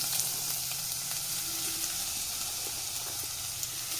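Two large onions sautéing in hot coconut oil in a kadai, a steady close sizzle and crackle of frying with light stirring scrapes, continuous throughout.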